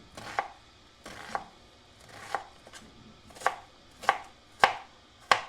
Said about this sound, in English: I'm gonna get a yellow onion, some Italian parsley, and some garlic. I'm gonna chop all that up.